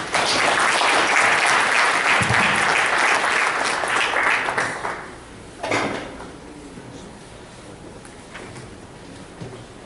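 Audience applause at a 2016 Micronics new-product launch, loud and dense for about five seconds, then thinning to scattered claps and fading.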